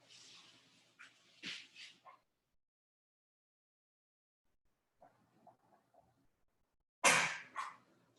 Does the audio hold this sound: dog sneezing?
yes